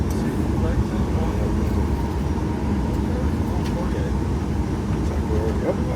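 An airliner's jet engines spool up on the runway for takeoff from Cape Town, heard from inside the cabin as a steady, loud, deep rumble that holds constant, with faint voices murmuring underneath.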